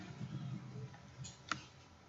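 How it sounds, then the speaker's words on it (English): Computer keyboard in use at a desk: a few faint, sparse clicks, then one sharper key press standing out near the end, quiet and close. "So I will write it yes and press enter."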